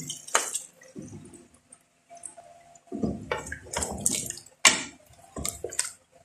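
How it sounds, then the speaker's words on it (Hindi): Water is poured into browned mutton for Hyderabadi dalcha in a pressure cooker. It makes close sizzling, splashing bursts separated by short quiet pauses, with no talking. "अब मैं इसमें 1 कप पानी का डाल दूंगी।"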